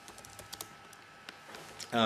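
Quick bursts of computer keyboard typing, a handful of light, close clicks in an irregular rhythm over a quiet background, ending as a voice begins.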